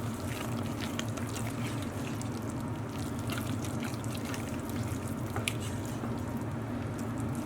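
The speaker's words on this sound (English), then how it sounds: "And just carefully stir all that through." A Persian yogurt stew, khoresht-e mast Esfahani, being gently stirred in a pot on the stove over low heat, giving a continuous soft, wet squishing and sloshing close up with no talking.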